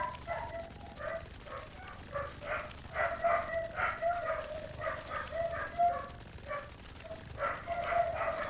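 Several dogs barking in short, repeated bursts at a moderate distance, with yips mixed in and a loose, uneven rhythm that continues throughout.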